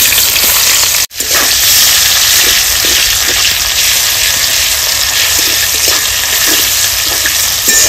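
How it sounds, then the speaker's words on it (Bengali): Chopped onions hit hot oil already seasoned with dried chili, bay leaf and whole spices, bursting into a loud, dense, continuous sizzle heard up close with no talking, in a village kitchen cooking chicken curry. "এবার দিয়ে দেবো পেঁয়াজ কুচি"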